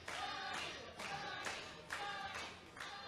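A wrestling crowd at a small independent show claps in a steady rhythmic beat, several sharp bursts about half a second apart, heard faintly at a distance.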